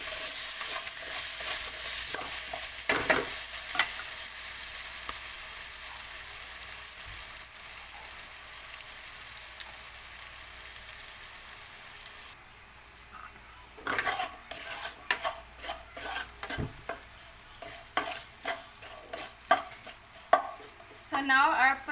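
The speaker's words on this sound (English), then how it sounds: "And just first we have to cook our potato." Potatoes frying in a pan while a spoon stirs them, giving scraping, clattering strokes over a soft sizzle that is steady at first, then broken into louder bursts of stirring, close by.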